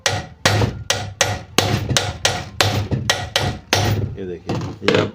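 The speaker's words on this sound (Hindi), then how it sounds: "अभी देखते हैं थोड़ा सा और होगा तो इसको पूरा अंदर तक हम ठोक लेंगे।" Repeated hard hammer blows drive a part fully into a sewing machine, about a dozen sharp metallic whacks in a steady rhythm, loud and close, with a brief pause near the end.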